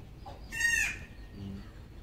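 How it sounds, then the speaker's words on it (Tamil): A large rooster being kept for curry lets out a brief squawking call, fairly close, followed by a softer low cluck amid quiet background noise. "இந்த கோழி என்னை பேச விடல."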